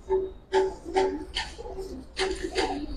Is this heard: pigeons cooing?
yes